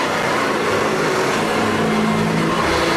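A Hoover vacuum cleaner drones with a loud, steady roar throughout, close and unbroken, with no pauses or changes in pitch.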